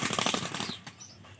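A released pigeon flaps its wings in a quick, close burst of rapid beats that fades within a second, with no voices.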